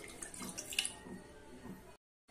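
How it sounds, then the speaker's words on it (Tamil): Water poured from a measuring cup into a pressure cooker, a soft continuous splashing and trickling for about two seconds that cuts off into silence, fairly faint and close. "இப்போ மெஷரிங் கப்ல நான் 8 கப் அளவுக்கு தண்ணி ஊற்றிக்கிறேன்."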